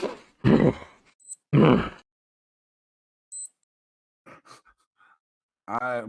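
A voice imitates heavy snorting breaths, two loud forceful bursts followed by quieter grunting sounds and a short voiced groan.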